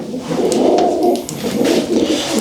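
Several pigeons coo softly together in a steady low murmur, close by and continuous, with light rustling and no talking.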